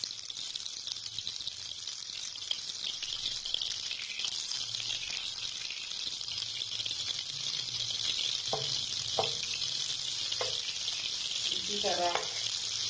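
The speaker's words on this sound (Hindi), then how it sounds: "माशाल्लाह से ऑयल और मक्खन पिघल रहा है" Butter and oil melting in a pan sizzle with a steady bright hiss that lasts throughout, and someone talks over it near the end.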